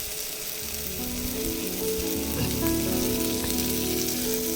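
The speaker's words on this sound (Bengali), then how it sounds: "মশলাটাকে আমি ভালো করে কষিয়ে ভেজে নেব যতক্ষণ না তেল ছাড়ছে" Spice masala fries in hot oil for a rohu fish kalia, giving a dense, continuous loud sizzle with a low bubbling hum underneath and the odd faint stir, close up and without speech.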